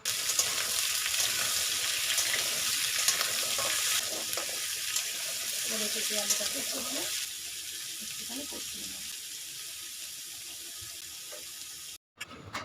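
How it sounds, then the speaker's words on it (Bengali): Papaya and potato pieces fry together in a pan, a steady hissing sizzle that continues throughout, with a faint voice talking in the middle and a brief break near the end. "এখন এই পেঁপে আলুগুলোকে একসাথে ভাজতে থাকতে হবে।"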